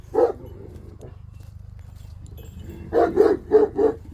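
A dog barks once, then a quick run of several barks near the end over a low rumbling background.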